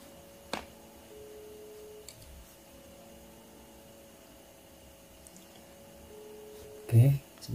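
A phone paired with a Xiaomi Haylou LS05 smart band gets an incoming call, and a faint, steady electronic ringtone hums through a quiet room, with a sharp click early on and a loud thump at the end.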